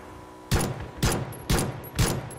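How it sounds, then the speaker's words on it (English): Four loud gunshots from PlayerUnknown's Battlegrounds ring out at a steady half-second interval, each a sharp broadband crack with a short decaying tail, with no talk over them. "Oh, I'm being shot at."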